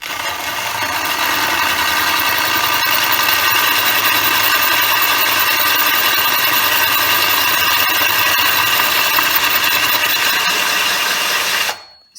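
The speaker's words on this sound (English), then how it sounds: "we'll start off again on a slow setting" A drill with a carbide holesaw cuts into tile at a slow setting, giving a steady, loud grinding whine that holds evenly for about twelve seconds before cutting off abruptly.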